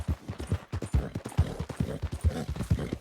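Horse hooves in Red Dead Redemption 2, a steady rhythmic clip-clop of a horse trotting on the ground, close and continuous, with no talk over it.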